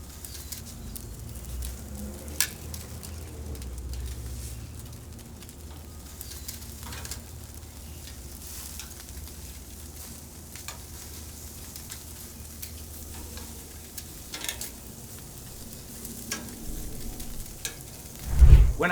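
NY strip steaks sizzle softly on a Pit Boss open-fire grill, a low, faint crackle with occasional pops and scrapes, and a few birds cooing in the background.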